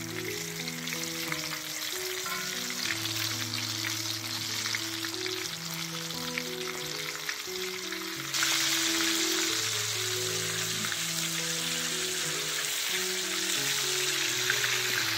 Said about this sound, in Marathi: गोल्डन ब्राऊन होईपर्यंत आपण फ्राय करू.